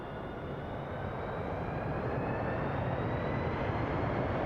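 Boeing 727 engines roaring in a flight simulator during landing, giving a steady loud broadband rumble with a slowly rising whine that holds for the whole stretch, with no voices over it.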